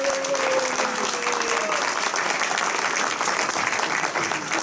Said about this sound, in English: Big round of applause for Craig Wool here.